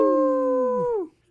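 A person imitates a wolf-like howl, one sustained tonal call held for about a second before sliding down and cutting off, loud and close.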